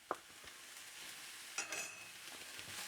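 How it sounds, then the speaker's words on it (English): Ground cumin and smoked paprika stirred through a hot, sizzling pan of lamb pasta base; a few quiet scraping stirs over a soft, steady sizzle, heard up close. "Give that a stir."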